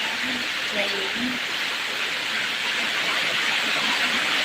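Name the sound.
loud heavy rain, possible typhoon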